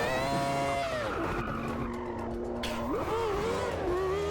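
McLaren MP4/12 Formula One car in the Automobilista 2 racing sim at Oulton Park, its high-revving engine whining and dipping as tires squeal through a skid, loud and close throughout.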